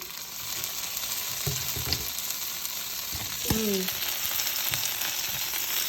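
Shredded beef for tacos sizzling and browning in a hot pan after being flipped, a steady fry with a few scraping stirs, close and moderately quiet, with no talk.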